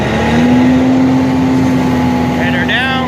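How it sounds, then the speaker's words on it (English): A nut sweeper's engine in a filbert orchard drones loud and steady close by, then throttles up with a rising pitch near the end. "Throttle up first."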